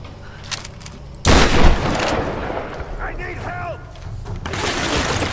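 Gunfire in the video game Tomb Raider bursts out loudly and then rings into a rumbling tail, with a few softer shots before it and game sounds and a voice-like tone after it.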